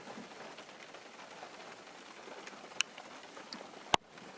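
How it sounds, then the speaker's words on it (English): Light rain starting to fall outdoors during an elk hunt patters softly and steadily, with a couple of sharp close clicks or taps near the end. "Just starting to rain too."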